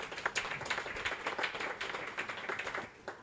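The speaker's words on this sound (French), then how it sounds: "Est-ce qu'on peut applaudir pour lui, s'il vous plaît?" A TV show studio audience applauds a guest artist with bright, fairly close clapping. The claps are steady and fairly dense, then thin out toward the end.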